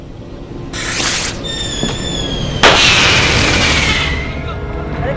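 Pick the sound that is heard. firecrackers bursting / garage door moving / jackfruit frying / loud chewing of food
firecrackers bursting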